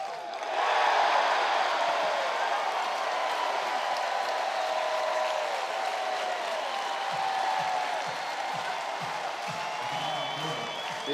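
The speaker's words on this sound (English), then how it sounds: "This crowd, many of them up on their feet, trying to get Hetzler through what probably would be his last hitter." A baseball crowd cheers a pitcher near the end of his outing in an Auburn versus Milwaukee game, a broad steady roar of applause and shouts from a distant stadium audience with a few whoops over it.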